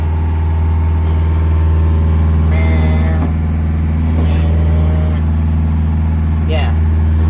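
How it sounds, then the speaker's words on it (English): A loud, steady low sailboat engine drone with a constant rattling hum from the vibrating stairway throughout, with a voice speaking briefly over it. "The stairway vibration is like, I swear it's as loud as the engine."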